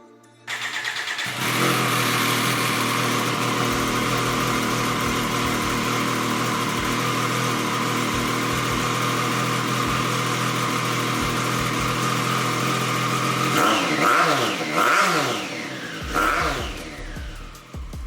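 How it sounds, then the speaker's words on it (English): A 2023 Triumph Street Triple 765 with catalytic converter removed and straight pipe exhaust fires up and idles with a harsh, raw rumble, then revs up and down in several sharp bursts near the end. "So again, no cat, pretty much full straight pipe. I'm pretty sure it's gonna be loud as hell"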